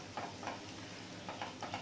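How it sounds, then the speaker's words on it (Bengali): Garlic paste fries in a pan over low heat for an egg korma, a soft steady sizzle broken by several gentle scraping strokes of a spoon stirring it, close and quiet. "এই রসুন বাটাটা দিয়েও আমি এবার ভালো করে একটু নেড়ে চেড়ে নেব"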